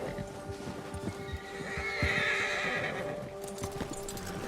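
Horse in the video game Red Dead Redemption II, hooves clip-clopping in a steady gait with a whinny rising midway, set against soft ambient game sound.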